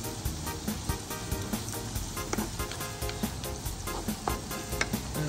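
Garlic and onion fry in hot oil outdoors with a steady, dense sizzle, broken by regular scraping and stirring clicks close by.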